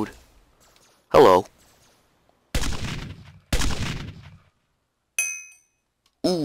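Gunfire from a Hypixel Galaxy Wars video game match: several separate loud synthetic shots or blasts with ringing, clinking tails, spaced about a second apart over near silence.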